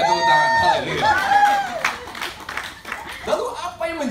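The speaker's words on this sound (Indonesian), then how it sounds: "Berikan tepuk tangan." An audience claps briefly in a scattered, uneven burst at a talk, heard under loud voices that carry on over it.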